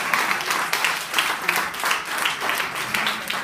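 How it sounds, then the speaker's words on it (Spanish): Church congregation applauding, a steady wash of many hands clapping together with faint rhythmic pulses, fairly close and continuous throughout. "Un aplauso al negro."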